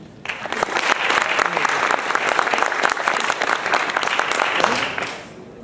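A crowd bursts into sustained applause at the opening ceremony of a Brazilian regional bodybuilding championship, loud dense clapping with sharp individual claps standing out, holding steady for several seconds before tailing off at the end.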